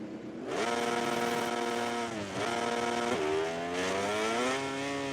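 A motorbike engine in the racing game MotoGP 20 revs loud and close, its pitch climbing and dropping through several throttle pulls and gear changes without pause.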